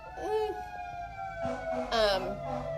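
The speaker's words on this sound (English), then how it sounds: "Sorry, there's a siren." A wavering siren wails in the background while a person talks over it.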